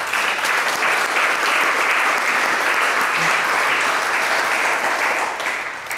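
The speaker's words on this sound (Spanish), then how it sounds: "Un aplauso para ellos" A crowd at a book presentation breaks into loud, thick, continuous applause that holds steady for several seconds and eases slightly at the end.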